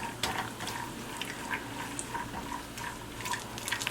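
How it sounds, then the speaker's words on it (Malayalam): Peanuts frying in Dalda vanaspati fat in a pan on the stove, giving soft, steady sizzling with scattered small crackles and pops throughout, fairly faint and heard alone. "ഈ പീനട്ട് വറുക്കുമ്പോൾ പ്രത്യേകിച്ച് എണ്ണയിൽ വറുക്കുമ്പോൾ സൂക്ഷിക്കണം കേട്ടോ."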